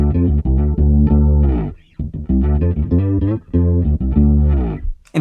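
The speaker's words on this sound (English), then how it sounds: "now I hear the chorus effect being applied to the octave" An electric guitar is played through an effects pedal with an octave effect and chorus applied, giving a shimmering, doubled tone. Loud, rhythmic chords and notes come with short gaps between phrases and no speech.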